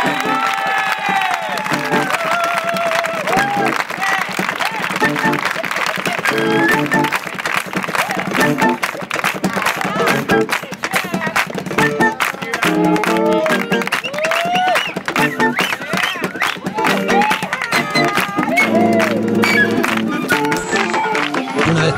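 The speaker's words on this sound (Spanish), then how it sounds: "Un fuerte aplauso para robot" A street audience applauds and cheers a busking swing performer billed as half robot, half person after a dance move, with sustained dense clapping, shouts and crowd noise mixed with music and chatter throughout.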